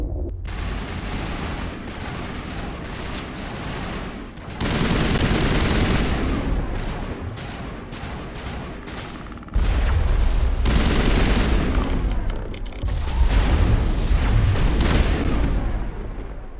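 Sustained loud gunfire and booming blasts in a Mass Effect battle on Virmire against Geth, dense overlapping bursts with surges of intensity throughout, no speech.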